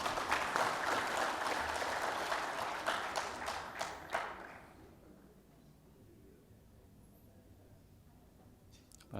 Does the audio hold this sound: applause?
yes